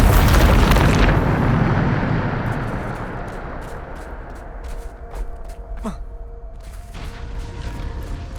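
A Bombarda spell blast from Hogwarts Legacy: a loud, broad booming explosion at the start that rolls off over a few seconds, followed by scattered sharp magical cracks and a brief whoosh, with no talking.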